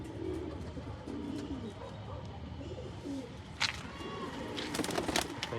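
A pigeon coos softly nearby in low repeated calls over a rustling background, followed by a few sharp clatters and flutters near the end.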